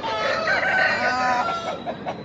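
Many roosters of Kaki and Kakidega breeds crow and cluck at the Pileru chicken market, a dense, continuous chorus of overlapping calls that fills the space without a break.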